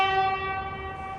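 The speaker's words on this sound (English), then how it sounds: "Why did they put a clown car horn in here?" A Rivian R1S electric SUV's horn sounds in one steady, sustained honk with a bright, thin, toy-like tone, close and fairly loud, lasting just over a second with no talk.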